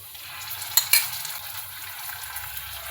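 Onions with ginger-garlic paste and turmeric frying in a pan for a bhindi tomato curry, a steady close sizzle with a couple of sharp spatula clinks near the start.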